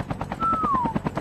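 A helicopter in Call of Duty Mobile gives a steady rhythmic rotor chop, close and fairly loud, with a brief falling electronic tone partway through.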